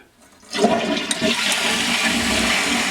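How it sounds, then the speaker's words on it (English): A toilet flushes after its flapper has been replaced; after a moment of quiet the flush kicks in with a loud, close rush of water that holds steady as the bowl drains. "I'm just gonna give it one more flush"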